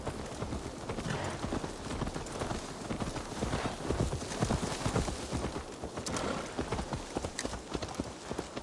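Horse hooves clip-clop steadily on the ground in the video game Assassin's Creed Valhalla, a continuous fairly quiet rhythmic patter of many hoofbeats with no speech over it.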